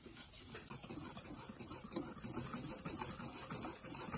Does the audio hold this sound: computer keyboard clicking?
no